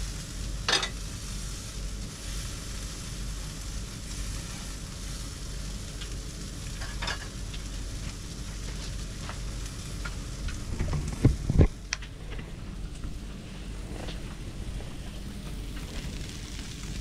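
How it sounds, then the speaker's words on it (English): Barramundi fillet frying skin-side down in a pan beside peas and cabbage, a steady close sizzle running throughout with a few brief clatters and stirring knocks near the end. "Right, so that'll be my peas and cabbage cooking there nicely. And my fish, there's my fish inside down."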